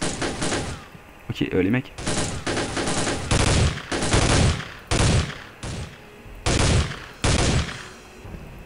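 Rapid bursts of automatic gunfire in the Soldier of Fortune II shooter game, about nine loud, close volleys separated by short pauses, with someone speaking briefly early on.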